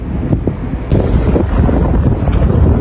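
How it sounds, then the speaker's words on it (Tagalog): Strong wind on a bridge buffets the microphone in steady low rumbling gusts, with a rougher burst near the middle; no voices. "Masyadong mahangin dito guys, so hindi pwede."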